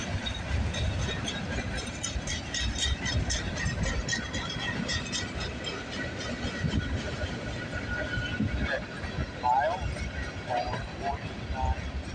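A CP freight train rolls past at Bronte Street in Milton, Ontario, a steady dense rumble with rhythmic wheel clatter and metallic squeals throughout, loud and close, with voices talking over it.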